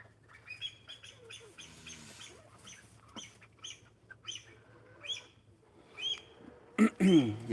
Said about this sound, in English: What you're hearing in the background, that's an impian. And the peacock was going off a little bit too.